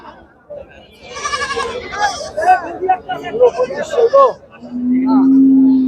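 Large native-breed goats at the Gosairhat livestock market, bleating several times with wavering cries and ending on one long drawn-out bleat, amid crowd chatter and nearby voices.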